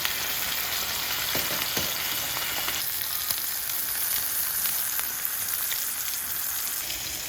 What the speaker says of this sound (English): Now I'm going to add my steak.